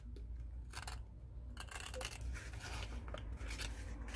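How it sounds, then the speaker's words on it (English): Cutters snipping paper while making a Polaroid mini album, a series of close, crisp cutting strokes in irregular rhythm over a low background hum, with no talking. "So I'm gonna use my cutters to do so."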